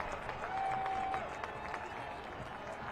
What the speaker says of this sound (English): Home crowd loves it.